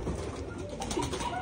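A racing pigeon coos softly at a loft during arrivals, low murmuring calls that repeat over a quiet outdoor background, without speech.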